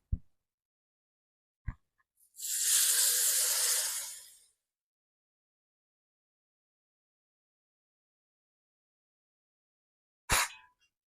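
A little water added to fried spice masala in a hot pan for an egg curry, giving one sharp burst of hissing sizzle that lasts about two seconds and dies away, with a few faint knocks before and after.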